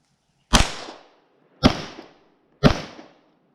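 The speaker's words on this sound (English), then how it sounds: "Alright, so again, 3 rounds of subsonic." Three suppressed subsonic gunshots are fired through a Silencerco Octane 45, each a sharp, loud crack with a short decaying tail, evenly spaced about a second apart in otherwise quiet surroundings.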